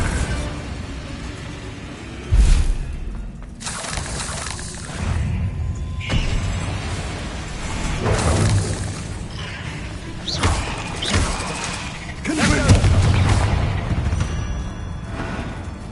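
Repeated Bombarda spell explosions in Hogwarts Legacy, several loud booming blasts and thuds spaced a few seconds apart over a steady game background, heard close and punchy.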